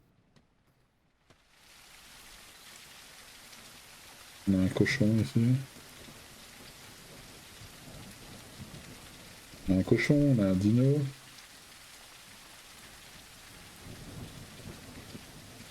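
Rain and rumbling thunder from the Greenhouse game demo make a steady wash throughout, with two short bursts of talk over it.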